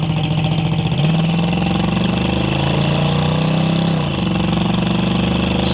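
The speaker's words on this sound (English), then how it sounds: "We'll roll into the throttle one more time for y'all." A 1972 Ford Mustang Mach 1 with its numbers-matching 351 V8 pulls under throttle, a steady loud engine drone that climbs in pitch, eases off briefly near the end, then holds on.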